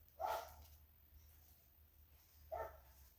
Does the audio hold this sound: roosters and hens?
no